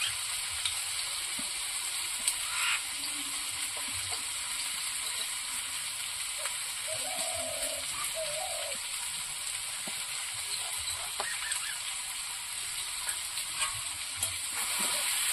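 Taro (kochu) with salt and turmeric frying in a pan, giving a loud, continuous close hiss and crackle with occasional faint stirring knocks.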